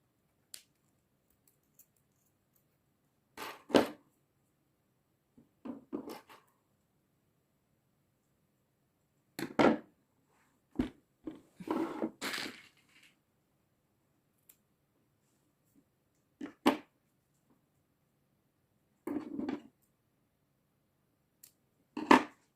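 Chain for DIY dangle earrings is cut with sharp, isolated snips and clicks, about ten of them spread irregularly over quiet pauses, close and fairly faint.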